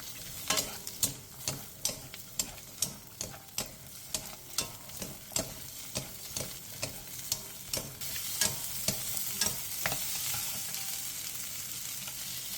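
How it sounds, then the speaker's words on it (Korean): Green onion, onion, carrot and cabbage stir-fried in oil over high heat, a continuous close sizzle punctuated by regular rhythmic spatula strikes against the pan, about one each half second, no talking. "팬에 식용유 2스푼을 두른 뒤 대파와 양파, 당근, 배추를 넣고 센 불에서 2분 정도 볶아주세요"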